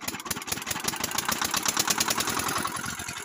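A gasoline-powered water pump engine runs steadily close by, a dense rapid mechanical chatter holding at a constant loud level with no pauses for the whole stretch.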